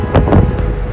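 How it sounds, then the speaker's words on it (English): Sulfur fumes roar from the crater of Mount Bromo volcano, a loud, close, windy rumble with a couple of gusting bursts, as brief as a second. "these fumes make a sound of bursting, rumbling, hissing and roaring like a jet engine."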